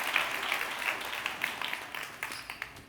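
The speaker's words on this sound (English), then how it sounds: "Give her a big round of applause." A small audience applauds after a keynote speaking session, a soft, steady wash of clapping with a few sharper claps standing out near the end, no voices over it.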